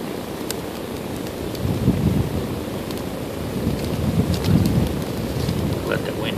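Wind buffets the microphone outdoors during a water boil, a loud continuous rumbling roar that swells in gusts around the second and fourth-to-fifth seconds.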